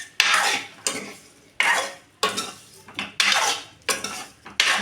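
Masala egg biryani stirred in a metal pot with a ladle: about seven rhythmic scraping strokes, each a sharp close scrape that fades before the next, with no talking.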